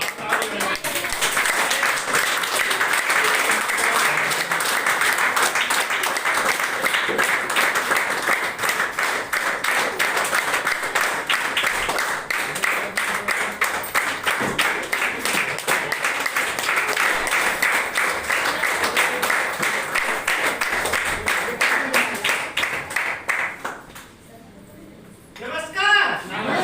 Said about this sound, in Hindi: ताली बजानी